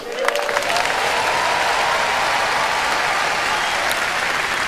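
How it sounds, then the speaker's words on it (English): Dense, sustained applause from a large audience fills the whole stretch at a steady loudness, a broad wash of clapping with a brief rising tone near the start. "put your hands together for God Almighty"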